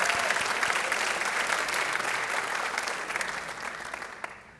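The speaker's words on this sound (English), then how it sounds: "I think we have to give her a real round of applause" Audience applause at an evening commemoration of the 30th anniversary of the AMIA Jewish Community Center bombing, a dense, steady round of clapping from a crowd that holds strong before thinning and fading near the end.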